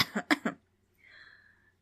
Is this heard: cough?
yes